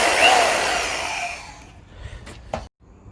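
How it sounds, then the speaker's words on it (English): A metal bandsaw whines through oil field pipe, a loud sustained grinding hum that fades out as the cut finishes, followed by a few sharp clanks and knocks of metal. "What I did was I took this metal bandsaw"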